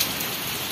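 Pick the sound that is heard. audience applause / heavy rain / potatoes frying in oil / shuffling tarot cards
heavy rain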